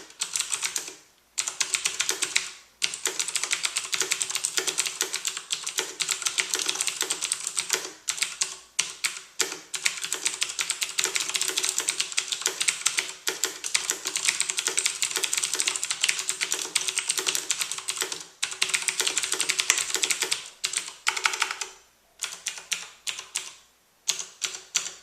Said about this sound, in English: So first, let me start off by just doing some typing here so you can get a feel for the keyboard.